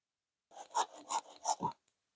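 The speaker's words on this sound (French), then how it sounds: "dès que je fais un trait de scie" A short run of five or six rasping back-and-forth hand saw strokes cutting through plywood, close and fairly loud.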